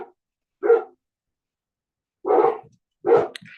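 A dog gives three separate barks indoors, a short single bark then two louder ones spaced about a second apart, close and clear with silence between.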